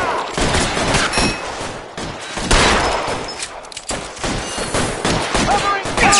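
Heavy gunfire in the crime video game L.A. Noire, with dense overlapping shots and bursts close and loud for the whole stretch, along with shouted voices mixed in.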